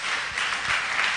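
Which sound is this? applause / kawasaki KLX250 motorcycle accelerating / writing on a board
applause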